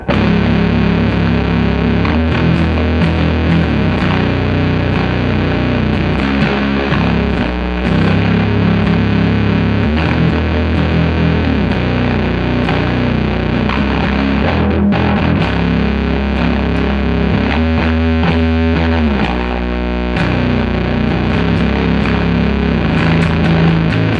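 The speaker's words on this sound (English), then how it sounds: "I was really digging distortion all the way up, filter all the way up, volume kind of down." Heavily distorted electric guitar through a 1980s ProCo Rat II pedal with distortion and filter maxed, giving a thick, buzzy fuzz tone; loud, sustained chords and riffs play continuously with brief pauses, no talking.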